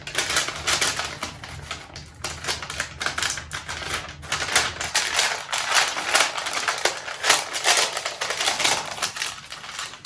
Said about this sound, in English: We'll fold this brown paper, make it through like this.